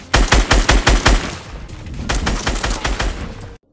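Rapid automatic gunfire from Fortnite Battle Royale in a tight, loud burst of about eight shots, then a denser, softer stretch of continued firing and game action until an abrupt cutoff.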